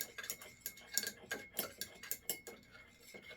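A milk stirrer clinks against the inside of a mug while stirring 45-year-old instant coffee, giving a quick run of close, light ticking taps in an irregular rhythm.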